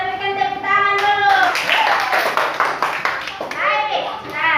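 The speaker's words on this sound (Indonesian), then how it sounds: "kita berikan tepuk tangan dulu." Schoolchildren in an Indonesian classroom break into clapping during a group presentation, a dense patter of small hands close by, with children's voices and chatter mixed in throughout.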